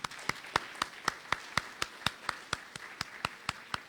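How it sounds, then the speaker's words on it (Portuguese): Members of a church congregation clap at a Sunday Lord's Supper service, steady rhythmic claps at an even beat, crisp and fairly close, about fifteen in a row with nothing else over them. "Uma salva de palmas para os nossos irmãos."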